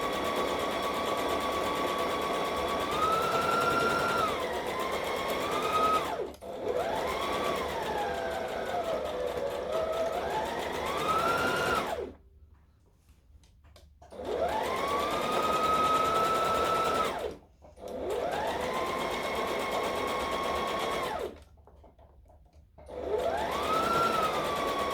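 A sewing machine stitching a dress at moderate speed runs in long steady whirring stretches that rise and fall in pitch, broken by several short pauses, close and clear with no talking.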